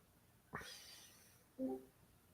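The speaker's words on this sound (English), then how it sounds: "Hear the kitty?" A house cat meows twice, faint and somewhat distant in a quiet indoor room, with a short gap between the calls.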